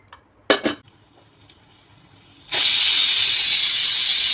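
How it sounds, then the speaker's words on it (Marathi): A pressure cooker holding whole moong gives a loud, steady hissing rush of steam that starts abruptly partway through and keeps going, after a couple of sharp metallic clinks and a quiet stretch. "त्यानंतर आपण कुकरमध्ये अख्खे मूग टाकून शिजवून घेऊया"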